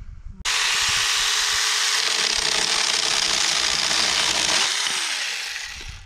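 A Saker mini chainsaw cuts through deadwood outdoors: the motor starts abruptly and holds a loud, steady high-pitched whine for about four seconds, with its pitch dropping slightly as the cut finishes and the motor winds down.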